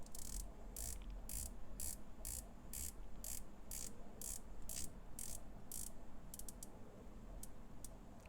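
A San Martin SN004 dive watch bezel is turned, giving a quick series of crisp, evenly spaced ratcheting clicks close up. The clicks run over faint background hiss and speed into a brief flurry near the end.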